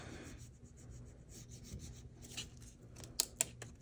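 A craft transfer is rubbed by hand with quiet, steady rasping strokes, close and alone, ending with a couple of small sharp clicks.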